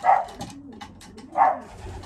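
Pigeons cooing inside a loft, two low throaty coos about a second apart with soft rustling between, close and clear with no talk.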